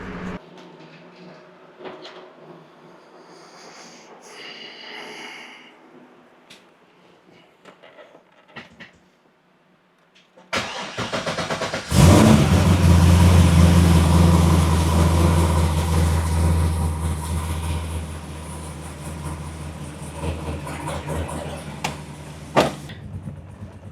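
Chevrolet Corvette C6 Z06 engine cranks and catches after quiet shuffling, then settles into a loud, deep idle with some revving, close by and without speech.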